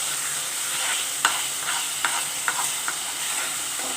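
A spoon stirs a sizzling spice mix in a pan for kadhi, with a steady frying hiss and several soft scraping knocks at irregular intervals.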